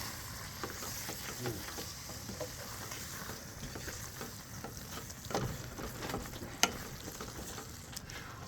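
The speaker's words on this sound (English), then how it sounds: "Let's stir that up." Food fries in a camping pan outdoors, a steady sizzle with scraping, clacking strokes of the stirring utensil throughout and one sharp knock near the end.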